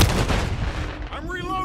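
Dense gunfire and heavy blasts in a Call of Duty battle, loud and close in a continuous roar, followed by a shouted voice line.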